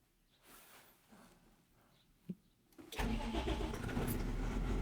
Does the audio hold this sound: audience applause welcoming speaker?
no